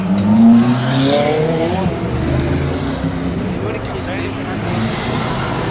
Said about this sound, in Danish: Ej, det er en Porsche.